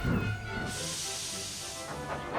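A cartoon steam engine lets out a steady, loud hiss of escaping steam with a low chuffing rumble underneath, continuous and close, swelling slightly at the start and end.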